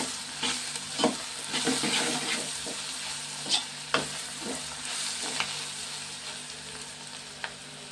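Ground cumin and coriander powder sizzle steadily in a hot pan, with occasional sharp clicks and scrapes of a spoon stirring, quiet and close.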